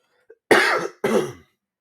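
A man coughs twice in close succession during a podcast recording. The coughs are loud and near, each a short, harsh burst, and a tiny click comes just before them.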